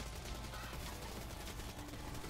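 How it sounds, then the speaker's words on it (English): Sustained rapid gunfire from shooting zombies in the video game Black Ops 3, a dense, steady crackle of shots throughout, fairly faint and without talk. "I'm just standing and shooting. Can't kill me, zombies."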